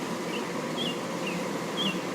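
Honey bees swarm and hum around a queen cage while a Tew queen is being released, a steady, dense buzzing drone that holds evenly throughout with no voices.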